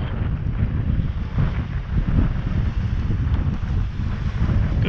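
Wind gusting over a bay, buffeting the microphone with a steady, loud rumbling roar that swells and eases over several seconds, alone without talk.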